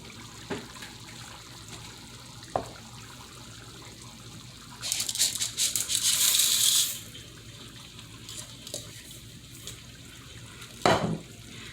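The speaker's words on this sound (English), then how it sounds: "let me get this macaroni added into here" Macaroni tipped into a pot of Italian sausage and lentil stew and stirred in, giving soft wet swishes and a burst of sloshing in the middle, with a few light clinks against the pot.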